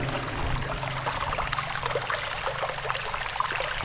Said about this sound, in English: you could just put a microphone right there next to that bubbling and sell that to all the spas